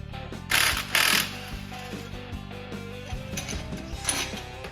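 Bolts holding the clutches come off a Polaris RZR 900, with a few loud bursts of a power tool and ratcheting, then quieter metallic clicks and clinks of hand work up close.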